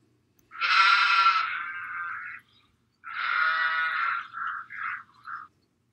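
A sheep gives two drawn-out, wavering bleats, close and loud, the second trailing off into a few shorter calls, with silence between.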